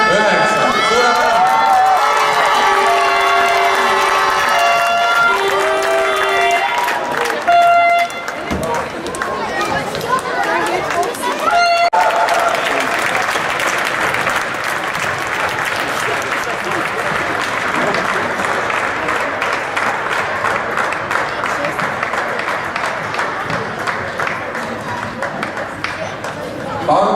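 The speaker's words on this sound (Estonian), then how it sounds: "Suure aplausi." Crowd applause and cheering fill a men's gymnastics competition hall in Tallinn after judges' scores are announced, loud and sustained, with music fading in the first seconds and noisy clapping continuing throughout.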